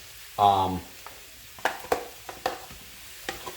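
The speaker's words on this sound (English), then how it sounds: "we're going to let this cook up it's going to take about 10 minutes for the sausage and everything to heat up" Sausage and leftover home fries fry in a pan, with faint sizzling, soft scraping and stirring taps after a short tonal beep, all quiet and close.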